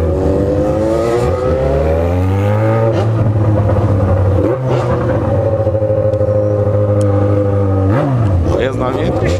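An XJ6 motorcycle engine revs loudly and continuously, its pitch rising and falling through several throttle bursts, close to the listener.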